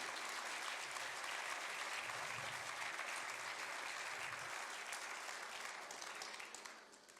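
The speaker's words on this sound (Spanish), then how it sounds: "Dele un aplauso al Señor." A church congregation applauds during a sermon, dense sustained clapping filling the space evenly for several seconds before easing off at the end, heard at a distance and fairly soft.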